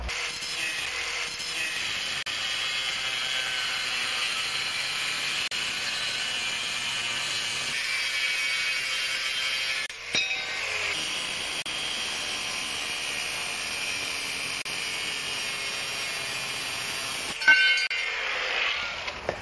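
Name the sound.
trimming the ends of steel angle irons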